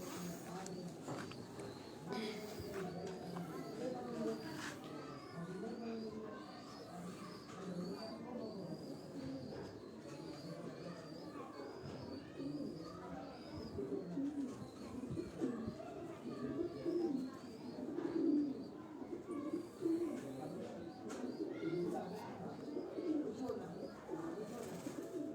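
Racing pigeons coo softly and repeatedly in a loft, their low rolling calls layered over each other at a quiet level while people talk nearby.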